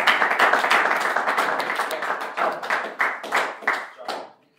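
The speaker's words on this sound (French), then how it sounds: "Veuillez d'abord applaudir." Applause for a football club at a formal ceremony, with steady hand claps from a small group that are close and fairly loud, then tapering to a few separate claps before stopping.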